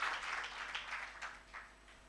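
Conference audience at a global health forum breaking into applause, a burst of many hands clapping that starts strong and gradually thins out over about two seconds.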